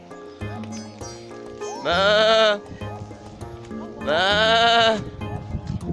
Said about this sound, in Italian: Che strane capre o pecore.